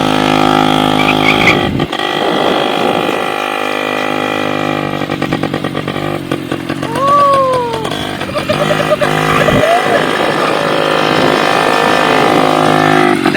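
A Royal Enfield Bullet motorcycle engine runs close by with a loud, steady, thumping drone, and a brief higher whine rises and falls midway through.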